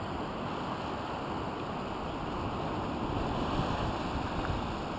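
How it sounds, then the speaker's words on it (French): A fairly strong north-east wind at the coast of Port Loubous, with a small south-west swell, makes a continuous, even rush of noise with no voices. "vent de nord-est assez soutenu"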